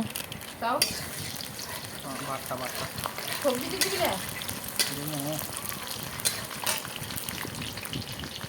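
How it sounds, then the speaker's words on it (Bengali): Cashews and raisins fry together in hot oil with a steady crackling sizzle and occasional stirring clinks, while a voice talks over the cooking throughout. "কাজু বাদাম কিশমিশ সব একসাথে তেলের মধ্যে দেওয়া হলো"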